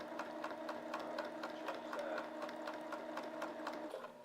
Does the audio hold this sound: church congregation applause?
no